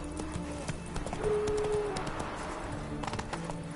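Hooves of the horse Roach clip-clopping at a gallop in a video game, a steady near rhythm beneath a busy background with a brief tonal whine partway through.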